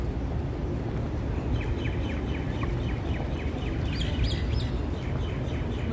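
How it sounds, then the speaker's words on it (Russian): Birds chirping in quick repeated calls over a loud, steady rumble of background city noise in Dubai Marina, the calls moderately faint and clustered in bursts. "Смотри, птицы разговаривают."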